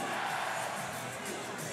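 A Seattle Mist home crowd at a Lingerie Football League game in 2015 roars steadily in a dense, distant wash of cheering with no break.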